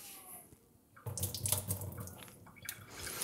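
Tap water running while a coffee pot is rinsed out at home, a steady splashing gush that starts after a quiet second and continues with fluctuating intensity, with no talking.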